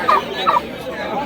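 A turkey gobbles at a bird market where pigeons are also sold, with two loud bursts of gobbling close to the listener and a steady market murmur under them.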